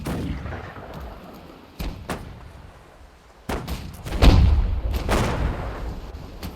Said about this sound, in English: Those 13 gun cannons are absolute powerhouses, and they shred ships in minutes.